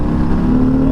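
A 2022 Harley-Davidson Sport Glide with a 107 engine revs under throttle, a loud, close, low rumbling drone whose pitch begins rising near the end of this very short clip.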